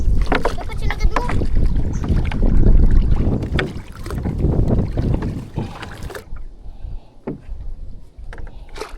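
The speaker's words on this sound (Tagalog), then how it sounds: "Malakas ang hangin." Strong wind gusts roar across open water around a small boat, a steady loud rush filling the whole stretch while several voices talk over it.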